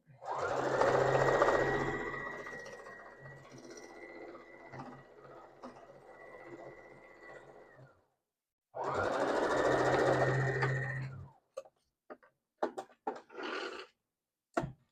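A sewing machine stitching a scrap quilt block runs in a long steady whir, stops, then runs again for a shorter burst, followed by scattered clicks and handling noises.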